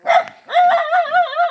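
Guard dog barking at close range, one sharp bark followed by a quick run of several yelping barks in an uneven rhythm, loud and clear with no talking over it.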